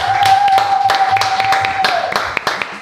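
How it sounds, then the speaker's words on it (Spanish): An audience applauds as a guest sits down at the table on an Argentine talk show, a burst of clapping alongside a whistle-like tone and some voices. "que recibamos con un fuerte aplauso a Victoria De Masi"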